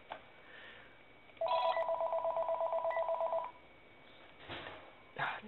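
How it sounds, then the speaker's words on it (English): A phone rings with a single electronic trill burst lasting about two seconds, fairly quiet and heard indoors over a faint background hum, followed by a few soft knocks. "Phone is ringing."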